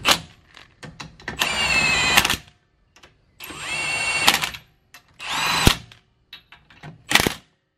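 A power tool runs lug nuts onto an SRT4 wheel on a turbo Caravan, four loud whirring bursts of about a second each, separated by short pauses, close to the mic.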